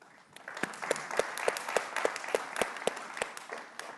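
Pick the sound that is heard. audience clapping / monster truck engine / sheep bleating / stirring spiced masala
audience clapping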